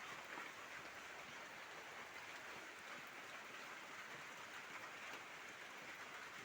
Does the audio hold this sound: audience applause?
no